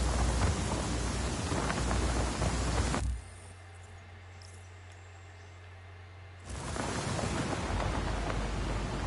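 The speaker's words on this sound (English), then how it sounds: "Storm's rolling in." Heavy rain roars in a thunderstorm in the video game Just Cause 4, a dense, loud downpour with rumbling that cuts to a low hum for a few seconds before the storm returns at full strength.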